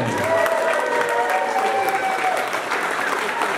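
Spectators at the Bristol Bot Builders Beetleweight Championship 2024 robot combat event applaud the champions, a sustained, lively crowd clapping with some cheering and voices mixed in.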